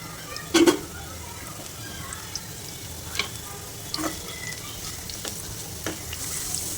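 Sliced bitter gourd shallow frying in oil on a low flame, a soft continuous sizzle with a sharp clatter near the start and scattered light scraping stirs, faint and close.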